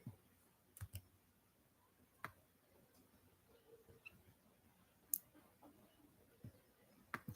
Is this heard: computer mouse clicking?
yes